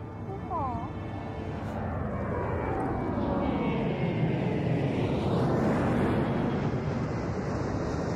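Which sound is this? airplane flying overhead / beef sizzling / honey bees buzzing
airplane flying overhead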